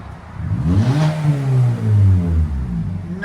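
A 2022 Hyundai Venue with a 1.6L engine and a muffler-deleted exhaust revs up and holds a loud, raspy drone close by, rising and easing back across a couple of throttle blips.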